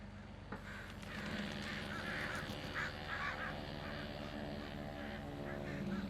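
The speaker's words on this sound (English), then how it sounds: "Geez, there's a few crows around." Crows in Farming Simulator 19 caw several times in quick bursts over a steady low rural hum, moderately distant and fairly quiet, with no talk.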